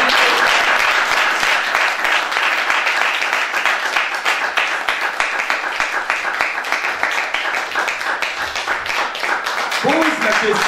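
Church congregation applauding at a Pentecost service, a dense, steady wash of many hands clapping that fills the room for the whole stretch, with a voice starting to speak near the end.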